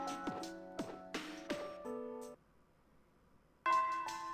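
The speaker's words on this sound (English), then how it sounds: "The first bell has rung." The school bell in the video game Persona 3 Portable rings as a sequence of clear struck chime notes, then a short silence before one more sustained chime, heard cleanly and alone.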